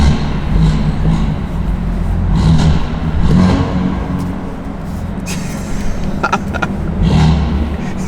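A BMW F80 M3 fitted with high-flow downpipes idles loudly while reversing, its exhaust holding a deep, steady drone with mild swells and a few rattly bursts near the end.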